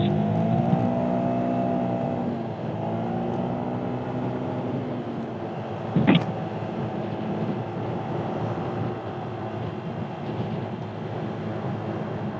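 A scooter engine accelerates along a road in steady, continuous drone with rising harmonic tones, a brief sharp burst near the middle, heard up close on a long-distance coastal ride.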